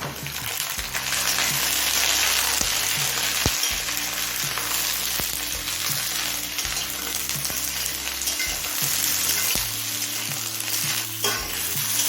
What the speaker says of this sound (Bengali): বেগুন আর সিমটা দিয়ে মিনিট দিয়ে ভেজে নিলাম